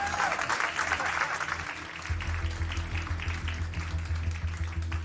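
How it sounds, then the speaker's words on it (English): An audience at a bodybuilding-style competition claps for a competitor being introduced, a brief burst of applause with a rhythmic thumping beat underneath and some crowd noise. "make some noise for Mr. Billy Davis as Trainer Red."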